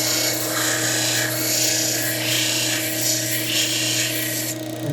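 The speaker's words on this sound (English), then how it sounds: "I'm just going to use the disc sander" A disc sander grinding a gentle curve into the flat side of a wooden stick for a steel-string guitar, a steady broadband rasp with a constant motor hum, close and continuous throughout.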